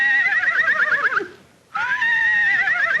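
A person lets out a horse-like laugh that imitates a neigh: a loud, wavering whinny, a brief pause, then a second shrill burst.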